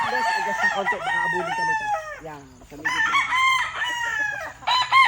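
A sweater-breed gamecock, a four-time fighting winner, crows loudly and close by in several long, harmonic bursts with brief pauses between them.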